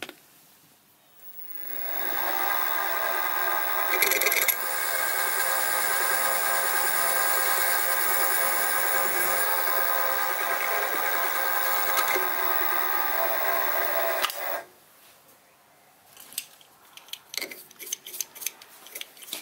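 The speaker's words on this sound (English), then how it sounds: "now I'm going to ream with this 9/32 of an inch reamer, running at about 500 RPM" A 9/32 inch reamer turning at about 500 RPM on a lathe reams a hole in a Stuart 10V steam engine crankshaft, giving a steady, fairly loud metallic hum with faint ticks that runs about twelve seconds before stopping abruptly.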